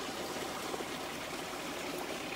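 Stream water picked up by a phone held underwater, a steady dense muffled rush and trickle filling the short stretch at an even, close level with no voices.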